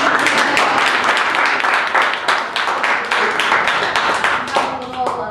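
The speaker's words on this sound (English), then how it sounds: "Maybe we didn't clap." Audience clapping at an MBA brown-bag luncheon talk on consulting in Africa, steady dense applause that stays loud and close throughout.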